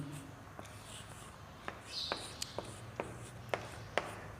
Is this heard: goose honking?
no